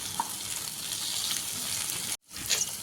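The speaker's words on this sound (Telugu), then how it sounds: "టమోటాలు, పచ్చిమిరపకాయలు అయితే వేగిపోయాయి." Tomatoes and green chillies fry in a kadai with a steady, close sizzle that holds evenly, breaks off abruptly near the end, then returns with a few crackles.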